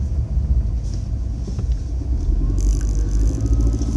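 A Mercedes-Benz M271 supercharged four-cylinder idles steadily with a newly fitted compressor pulley, a low rumbling drone that grows slightly louder partway through, with no talk.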